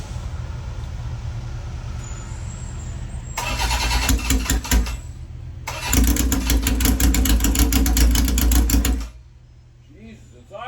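A car engine cranks and catches, then settles into a steady idle. Two loud bursts of rapid chattering engine noise are broken by a short gap, and the sound drops quieter at the end.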